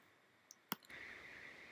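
A single sharp computer mouse click while working in a UITable View application, brief and close, followed by faint steady background hiss.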